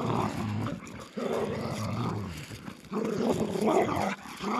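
A Laika dog recovering after surgery growls and whimpers in low, drawn-out bursts with brief pauses between them, close and moderately loud.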